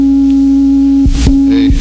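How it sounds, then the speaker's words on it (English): Sine wave note from a transistor oscillator signal generator played with a toy piano keyboard: a loud, pure steady tone held for about a second, followed by a few brief clicks and short chirpy tones. "a simple sine wave"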